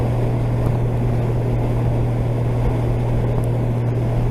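Steady, loud wind roar and a low engine drone from a 2019 Honda Gold Wing Tour DCT motorcycle cruising on a highway, continuous throughout with no pauses.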